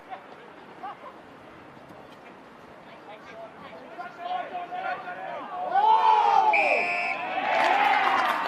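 A football crowd at a Tasmanian State League match in Glenorchy roars and cheers, swelling from a low murmur into loud cheering and whoops in the second half, with a commentator talking over it throughout.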